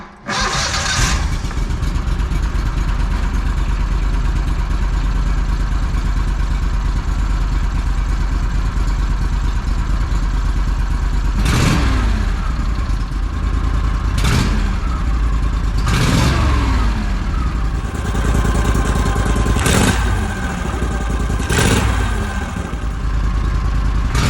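An Argo ATV engine, just fixed after a throttle cable adjustment, starts and runs at a steady, close idle. It is punctuated by about five quick revving bursts that rise and fall back.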